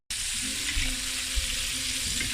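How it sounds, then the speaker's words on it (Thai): Salted egg fries in oil in a pan for a topping, giving a continuous loud, even sizzle with a couple of soft bubbling pops. "นี่คือท็อปปิ้ง ไข่เค็มทอดนะคะ"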